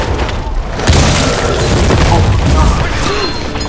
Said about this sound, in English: Use a shotgun on him.